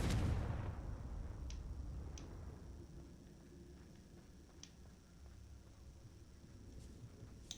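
Confringo blast spell cast in the Hogwarts Legacy video game: a loud, close burst at the start that fades into a low rumble, followed by scattered faint clicks and ticks.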